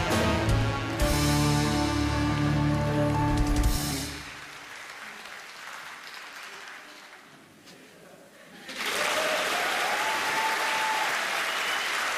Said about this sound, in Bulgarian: Както виждате, владея магията на аплодисментите.